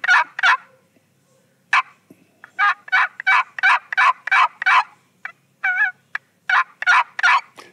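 Chalk-style turkey call worked by hand to mimic wild turkey purrs, putts and yelps: a run of close, loud, raspy notes in uneven bursts, some quick clucking putts and longer yelping series, with short gaps of silence between.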